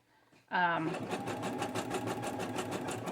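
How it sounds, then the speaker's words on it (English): A sewing machine stitching fabric ruffles starts up abruptly after a brief quiet moment, then runs as a steady, close, rapid mechanical whirr with a fast repeating needle rhythm. "I'm lucky I'm even on a sewing machine."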